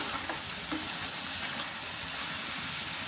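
Ingredients frying in hot oil in a pan for a Pallipalayam-style dish, a steady close crackling sizzle throughout with occasional faint stirring taps and no talk.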